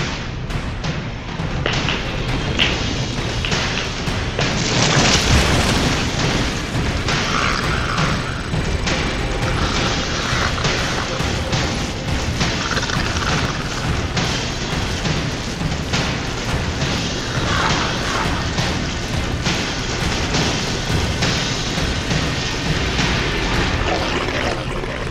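Dense, continuous rumble of booms, thuds and crashing debris as buildings are blown apart in StarCraft 2, loud and sustained throughout with no voices.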